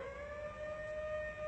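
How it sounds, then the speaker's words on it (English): A steady, sustained warning siren wail before an Ares rocket motor test holds one high tone throughout, loud and unbroken, with no voices. "Sirens are blaring."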